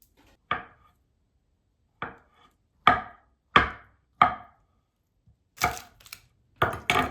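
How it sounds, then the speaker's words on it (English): A knife chopping avocado into bite-sized pieces on a cutting board, sharp distinct knocks spaced irregularly at first, then coming a little faster near the end, close and alone. "Slice it in half, then peel it and remove the pit and chop it into bite-sized pieces"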